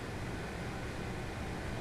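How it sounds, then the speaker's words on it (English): Steady, loud exterior noise of a Class 385 electric train in Train Sim World 3, heard near Bishopbriggs: a constant broadband rush and rumble with no breaks and no voices. "I'm going to leave it on this view just so that you can hear the noise outside"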